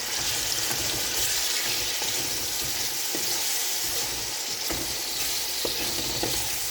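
Spaghetti with eggs fries loudly in a pan, a dense, unbroken sizzle and crackle with faint scraping from stirring underneath.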